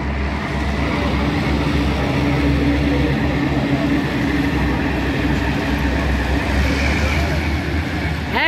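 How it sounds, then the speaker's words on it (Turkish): A long coal train rolls by nearby with a continuous low rumble and grinding wheels, a brief high squeal near the end. "Kömür treni. Bizim oran geçecek şimdi bu."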